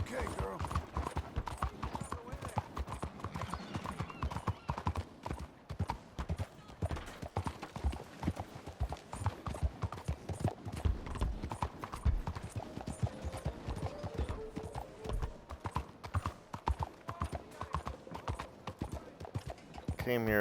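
A horse in the Red Dead Redemption 2 video game clip-clops along in a steady, rapid hoof rhythm that runs throughout, mixed with other game sounds, and a voice talks over it at times.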